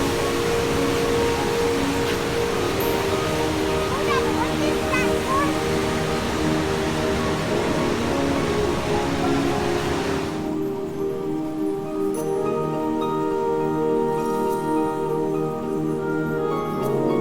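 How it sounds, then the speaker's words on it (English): Crescent Falls near Nordegg, Alberta roars as a loud, steady broadband rush of falling water, with a cut partway through to a thinner, quieter stretch of the same water noise. "We are so close to the waterfalls. This is the Crescent Falls."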